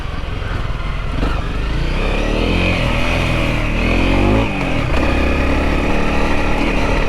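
An adventure motorcycle climbs a forest trail in Wayne National Forest in first gear, its engine loud and close, droning steadily with the pitch rising and dipping as the throttle shifts.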